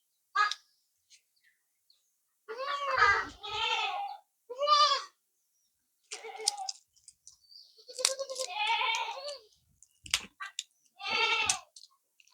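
Several weak goats, kept in for days by rain, bleat in a series of short, close, wavering calls separated by silences, with a few faint clicks between.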